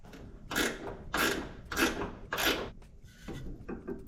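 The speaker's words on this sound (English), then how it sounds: "I'm going to tighten down this hardware to have the dryer secure in place" Four rhythmic rasping, scraping strokes close by as a wrench tightens bolts on an air-conditioning drier bracket in a 1979 Ford Bronco, followed by a couple of softer strokes.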